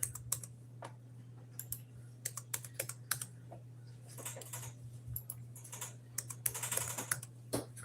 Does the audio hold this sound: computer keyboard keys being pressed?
yes